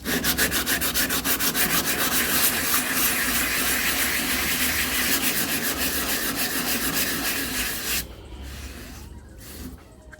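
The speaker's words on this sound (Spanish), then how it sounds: "Le puede dar con el filo de la lija, trabajándolo de esta forma." Sandpaper rubs rhythmically against a car body panel in quick back-and-forth strokes for several seconds, then stops, leaving a few faint scrapes.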